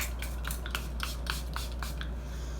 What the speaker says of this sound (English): now we are going to set with the Milani Make It Dewy setting spray,